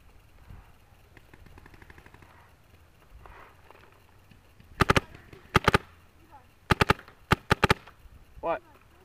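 Empire Axe paintball marker fired during outdoor paintball gameplay, a few sharp pops in clusters of two and three, fairly close, with faint talk and background noise between them.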